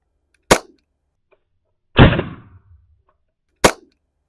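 Three sharp, loud reports from a cap gun or blank-firing gun, each a crisp isolated bang with a short ringing tail, spaced a second or more apart in a quiet setting.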